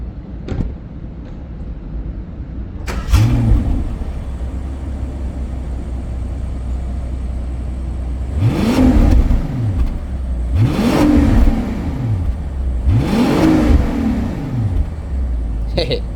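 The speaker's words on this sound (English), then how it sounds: "in this channel we like to hear the engine." A 2025 Rolls-Royce Cullinan Series II is revved three times in close succession, each blip swelling and sweeping in pitch before settling back to a low, steady idle rumble, with an earlier short rev near the start.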